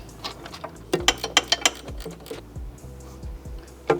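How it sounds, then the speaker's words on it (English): A ratcheting open-ended wrench works a fastener on a Porsche 992 911 during an intercooler and intake job, giving crisp, close metallic clicks in quick bursts with brief pauses between strokes. "I have an open-ended wrench that I'm going to use on the front that ratchets"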